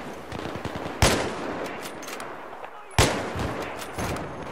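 Two loud, sharp gunshots from an SV98 sniper rifle in the video game Battlefield 3, about two seconds apart, each with a short echoing tail, over steady in-game battle ambience.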